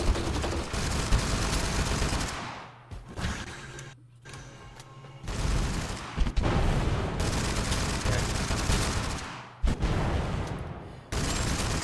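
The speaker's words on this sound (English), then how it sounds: "Okay, so you hear gunshots going on." Dense bursts of rapid gunfire in the video game TABG crackle almost continuously, with brief lulls and sharp loud cracks, like a busy firefight heard up close.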